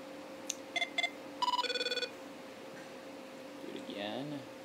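An iPhone plays its CTU ringtone, a short run of bright electronic beeps followed by a fast repeating trill, close and clear, then a brief burst of speech.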